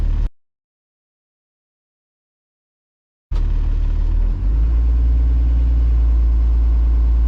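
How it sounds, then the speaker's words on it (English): School bus diesel engine in its lowest gear being revved to about 1100 RPM with the parking brake set, starting abruptly after a silent gap, then a loud, steady low rumble with a slight rise as the revs climb. "I'm gonna rev my engine to 1100 RPMs"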